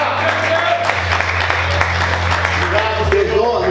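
A church congregation applauding during a Portuguese-language sermon, a steady wash of clapping with a low hum and voices underneath.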